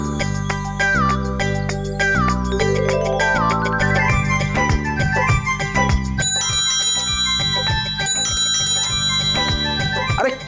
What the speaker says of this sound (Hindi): कौन घंटी टंटना रहा है?